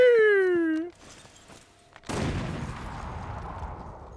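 Gunfire in the Resident Evil Operation Raccoon City video game: a falling wail-like tone, a few sharp cracks, then a dense burst of rapid shots and noisy blasts.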